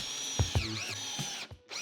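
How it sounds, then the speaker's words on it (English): Cordless power drill driving screws into a 2x4 wooden bench frame, with short bursts of whirring and a steady motor whine running close and loud, briefly cutting out near the end before starting again. "go ahead and get your screws started before you put it up to the piece to screw it in"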